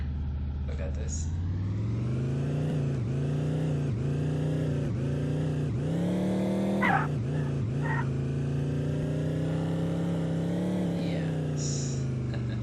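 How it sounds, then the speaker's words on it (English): Monster truck engine in a Unity vehicle physics demo revs steadily and rises in pitch over about twelve seconds, loud and close, with a person talking over it throughout. "And here we can play another car. For example, monster truck."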